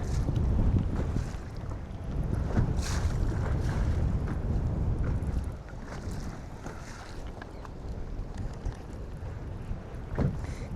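Strong wind buffeting outdoors at a lake while bass fishing, a loud, continuous rumbling roar with gusty swells and low microphone buffeting throughout, no voices.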